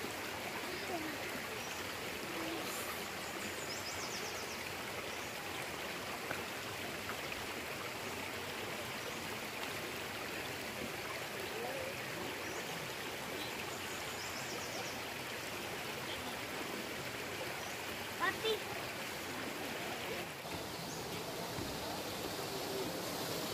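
Water streams continuously at Nojoqui Falls, a steady broadband rush close by with a faint voice briefly audible.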